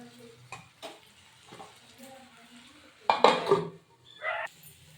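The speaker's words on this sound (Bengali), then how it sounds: "এবারে এটা আমি একটা ঢাকনা দিয়ে ঢেকে দেব।" A metal lid set onto a cooking pan of rui fish curry with potato and green banana, giving a loud clattering clank near the middle and a lighter clink shortly after, with soft kitchen noises around it.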